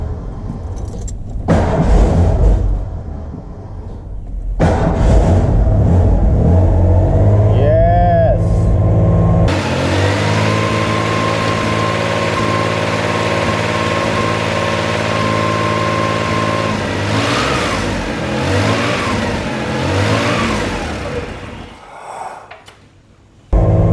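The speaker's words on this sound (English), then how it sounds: "Let's see if it starts. Okay. Kicks over. Let's add a little gas." A repaired car engine with slightly off timing cranks, then catches and settles into a steady close idle before being revved in rising and falling surges. Voices talk over parts of it.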